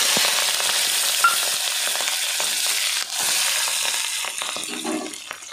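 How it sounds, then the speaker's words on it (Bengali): Nigella seeds, chilies and garlic fry loudly in hot oil, a dense crackling sizzle dotted with sharp pops that dips briefly and then carries on close up. "এবার আমি কালো জিরে দিয়ে দিচ্ছি, আর লঙ্কা আর রসুনগুলো দিয়ে দিচ্ছি।"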